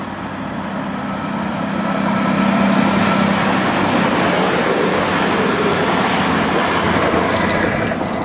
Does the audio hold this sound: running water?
no